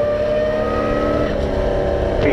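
Race car engine at full throttle on a racetrack, a loud sustained roar with a steady engine whine and faint rising pitch, close and continuous for a couple of seconds with no talking.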